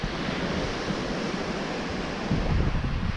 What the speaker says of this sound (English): Windy day on the lake.